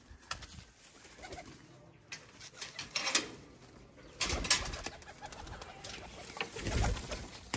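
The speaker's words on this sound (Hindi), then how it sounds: "ये कबूतर है" A pigeon released into the air flaps its wings in several bursts of clattering beats, with soft throaty cooing between them, close and uneven against quiet surroundings.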